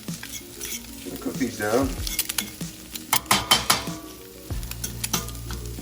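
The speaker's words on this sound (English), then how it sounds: "And just mix them with your spoon." Breakfast fried rice ingredients sizzle in a hot pan while a spoon stirs and scrapes them, with clinking and shuffling bursts over a steady fry and a voice talking briefly.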